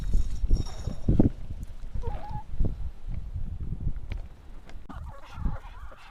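Dominant breed laying hens in a poultry yard, with a jumble of close, irregular clucks and short calls and one brief high chirp midway, all over a busy low rumble.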